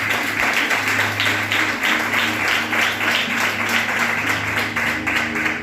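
A church congregation applauds in a sustained, dense wash of clapping that stays loud and even throughout, with a low hum underneath.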